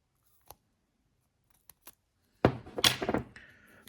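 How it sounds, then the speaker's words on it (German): Scissors cut adhesive tape at a model-train workbench: a few faint isolated snips, then a louder crisp cut with crackling tape rustle that trails off. "Klebeband abschneiden."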